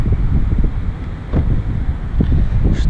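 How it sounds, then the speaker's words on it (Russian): Wind buffets a microphone in low, rumbling gusts, rising and falling with no voices present. "Тут всегда ветрено"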